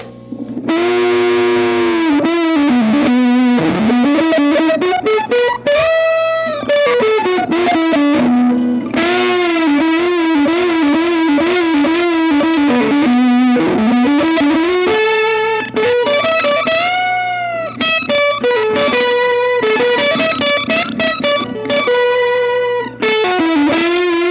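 A heavily distorted electric guitar through a Keeley Electronics Monterey fuzz pedal plays sustained, gliding notes with a buzzy fuzz tone and an added octave shimmer, loud and continuous throughout.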